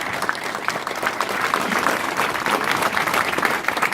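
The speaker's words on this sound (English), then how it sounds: "let's give a huge round of applause for this man" An indoor audience at a speedway press conference gives a speedway rider a steady round of clapping, dense and even throughout with no talk over it.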